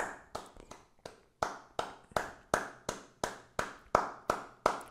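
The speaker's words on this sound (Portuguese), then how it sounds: "Uma salva de palmas para HQ." One person claps their hands alone during a casual chat about a comic book, about a dozen crisp, evenly spaced claps at a steady rhythm, close and moderately quiet.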